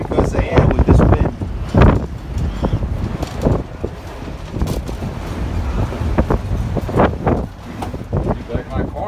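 Wind on a mountain trail in the Smokies on the Appalachian Trail buffets the microphone in gusty rumbles while someone talks loudly over it.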